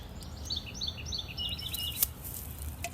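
Birds chirp and tweet in short bright bursts over a low steady background rumble at an airport in the morning, with a single sharp click partway through.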